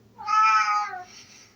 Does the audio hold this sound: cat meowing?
yes